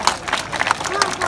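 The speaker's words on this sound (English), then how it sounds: "I think you can give him a round of applause" Audience clapping at a sea lion show in a safari adventure park, a short burst of scattered applause from a crowd with voices mixed in.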